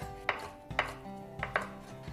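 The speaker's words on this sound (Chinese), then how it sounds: "接下来我们再也拿4、5只的虾切成丁" A knife dices peeled shrimp on a chopping board for Hong Kong dim sum beancurd rolls, five crisp, close chops in an irregular rhythm with quiet gaps and no speech.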